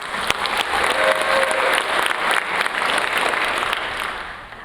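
A pitch-night audience applauds their mentor, steady dense clapping from a sizable crowd that swells and then gradually tapers off near the end.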